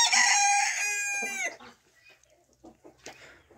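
A rooster crows once, a loud close crow lasting about a second and a half, followed by quiet farmyard sounds with faint soft clucks.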